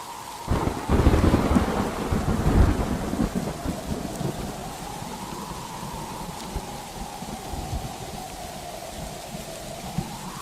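Stormy night with heavy rain and rolling thunder, a cartoon sound effect: loud thunder rumbles in the first seconds, then a steady wash of rain continues alone.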